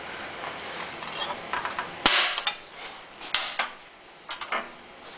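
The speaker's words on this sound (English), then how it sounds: "You can use a magic marker and then later a standard center punch to mark the hole" A standard center punch strikes the fuel tank of a Honda EU3000is generator with one sharp, close metallic crack, then a second, lighter hit, surrounded by small clicks and handling taps.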